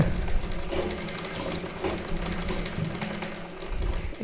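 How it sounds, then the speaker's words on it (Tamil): A sewing machine stitches cloth in a lock-stitch tailoring lesson, running as a loud, steady mechanical whir with a continuous rattling rhythm and no voices. "மிஷின் வந்து பார்த்திங்கன்னா துணி வந்து இழுக்க தான் செய்யும்."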